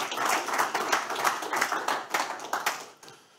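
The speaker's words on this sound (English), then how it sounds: "This is your applause" Audience at a data and analytics conference applauding to welcome a speaker, a moderately close, fairly small group clapping in uneven bursts that taper off after about three seconds.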